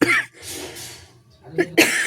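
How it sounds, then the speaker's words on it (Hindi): A sharp cough at the start, then quiet breathy sounds, followed by two more harsh coughs near the end, close and loud. "तो प्लीज़ मेरी खांसी को थोड़ा अवॉइड करिएगा।"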